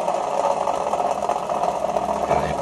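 Small electric motor rotor spinning on a back-EMF test rig, a steady, close mechanical whir with a fast, even hum that barely changes through the short stretch.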